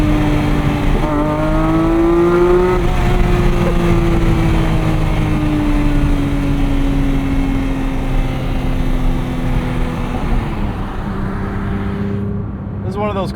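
Porsche 911 GT3 (2025) engine running loud and close, pitch sweeping up and down through revs with a sharp rise near the end, under a driver's talk.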